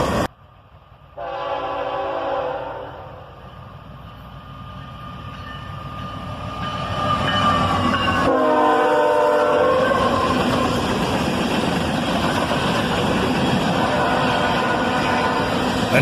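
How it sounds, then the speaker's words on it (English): A northbound mixed manifest freight train led by a pair of GE ES44AC locomotives sounds its horn in a long blast, then rumbles past with steady wheel and rail noise building loud and close. "A mixed manifest train headed northbound, led by a pair of ES44 ACHs."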